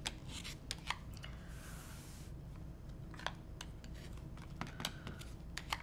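A rotary cutter slices along a 1.5 inch ruler to trim a quilt block, a series of short sharp crisp strokes spaced irregularly over a quiet room background.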